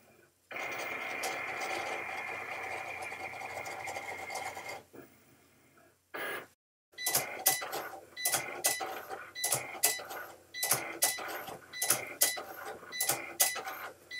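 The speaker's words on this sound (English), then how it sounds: "the Cricut is cutting lines across the top and along" A Cricut Explore cutting machine cuts calibration lines, starting with a steady mechanical whir and then moving into a series of rhythmic clicking and buzzing passes as the blade carriage travels back and forth, close and moderately loud.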